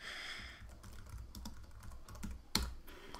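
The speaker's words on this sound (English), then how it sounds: "So you just want to type in your text." Keys clatter on a computer keyboard as text is typed, quick irregular clicks with one sharper tap near the end, close and fairly quiet.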